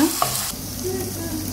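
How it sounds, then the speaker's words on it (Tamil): Tomato and onion sauté in a pan for a smoked eggplant thokku, giving a brief, close, steady sizzle with a soft stirring scrape near the start and no voice. "தக்காளியும் போட்டு நல்லா மசிஞ்சு வர வரைக்கும் வதக்கி விட்டுக்கோங்க"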